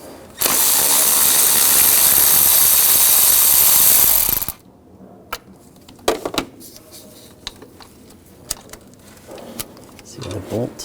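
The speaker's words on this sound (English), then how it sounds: "There's two bolts holding the bracket down. Use a 13mm socket. Take those bolts out." Bracket bolts come out of a 2000-2006 BMW X5 during power steering reservoir replacement using a 13mm socket, with a loud, sustained burst of ratcheting followed by scattered sharp clicks and metallic taps nearby.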